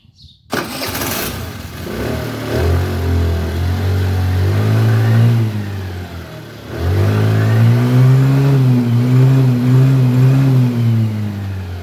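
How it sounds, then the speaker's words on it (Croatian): A Kymco Agility 50 4T scooter engine, after a roller replacement, cranks and catches, then idles and revs up in rising and falling surges, loud and close, with a brief dip midway before revving again. "Sad ćemo upaliti motor."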